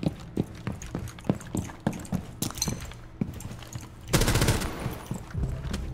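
Gunfire in Rainbow Six Siege, a string of sharp single shots at an irregular rhythm, then a loud burst of rapid fire near the end, fairly close and clear.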